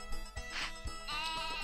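A sheep in Harvest Moon 64 gives a couple of short, close bleats, clear and alone with no talking over them.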